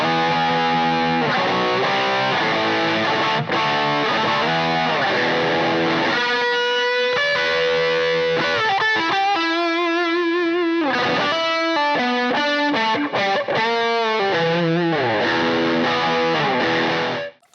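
Fender Stratocaster electric guitar played loud through heavy distortion and effects, strummed power chords giving way to fast, bending lead lines, sustained throughout without talk.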